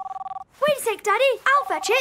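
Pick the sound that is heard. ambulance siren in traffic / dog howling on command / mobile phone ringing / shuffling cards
mobile phone ringing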